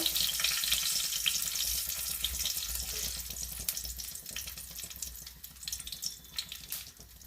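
Bay leaves and dried red chilies hit hot white cooking oil in a pan, giving a loud, dense sizzle that crackles steadily and slowly fades, with sharper pops scattered toward the end.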